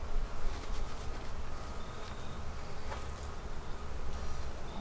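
Honey bees buzz steadily around open hives during a beekeeper's inspection and feeding, a continuous soft insect drone with a few brief whines of individual bees passing close.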